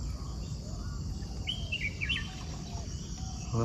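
Faint bird chirps and short tweets over a quiet outdoor hum on a river, heard from a boat, a few calls clustered in the middle, with no one speaking.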